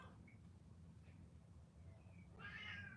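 A cat meows near the end, a short high call over a steady low rumbling background, with faint chirps earlier.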